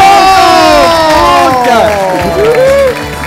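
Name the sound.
audience applause and cheering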